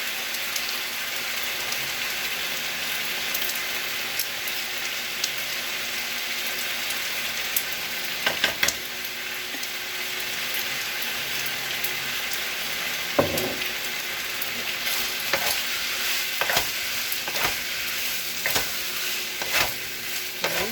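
Seafood pasta ingredients stir-fry in sesame oil in a pan, giving a steady, close hissing sizzle. Occasional sharp clicks and scrapes of stirring sound over the sizzle.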